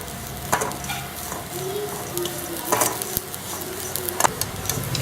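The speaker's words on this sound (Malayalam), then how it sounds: "ഇത് നന്നായിട്ടൊന്ന് വറുത്തെടുക്കണം. ഇതിൻ്റെ തേങ്ങയുടെ കളറെല്ലാം മാറി വരണം." Grated coconut with curry leaves roasts in a pan for Malabar Thalassery-style prawn curry, a soft continuous sizzle broken by a few sharp scraping stirs of a spoon against the pan.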